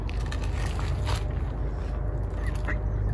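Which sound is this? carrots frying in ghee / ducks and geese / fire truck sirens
ducks and geese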